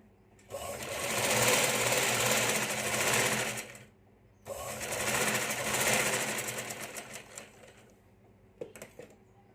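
Sewing machine running in two long stitching bursts, joining a straight fabric strip for a book-style placket, steady rapid whirring with a short pause between runs and faint handling clicks at the end.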